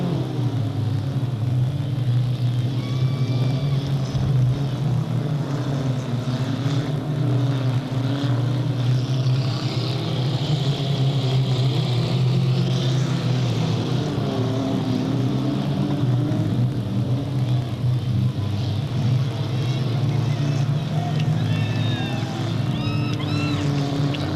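Race cars circle a speedway track in a steady, droning engine roar heard from a distance, with the pitch swelling and fading as cars pass, continuing without pause.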